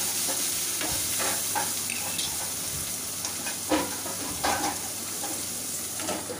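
Tomatoes and masala fry in a pan for paneer capsicum curry while being stirred, a steady close sizzle with scraping spoon strokes and occasional bubbling pops.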